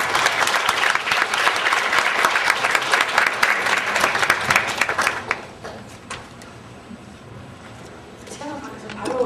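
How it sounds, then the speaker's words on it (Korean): Loud audience applause at a Korean lecture event on global branding fills the first half, then fades to scattered claps with murmuring voices and room chatter beneath. "큰 박수"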